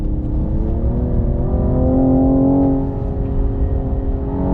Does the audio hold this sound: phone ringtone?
no